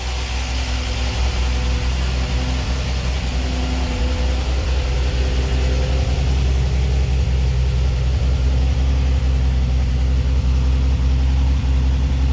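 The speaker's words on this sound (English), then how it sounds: "Exhaust sounds pretty good." A 2019 car's engine idles steadily with a deep, continuous exhaust rumble, loud and close, holding an even drone throughout with no talking.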